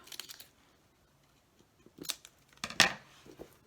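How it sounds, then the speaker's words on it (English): Scissors cut the corner out of a cardboard cereal box, giving a few quiet, crisp snips and crunches spread apart with short pauses, close by and faint. "I'm going to cut my corner out."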